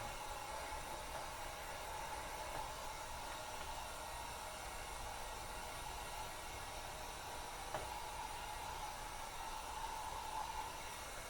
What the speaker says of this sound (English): maybe I'm getting the heat gun too close